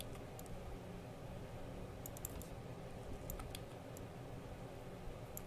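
Computer keyboard keys clatter in a few brief clusters of faint taps over a low steady hiss while someone works in Blender, with no voices.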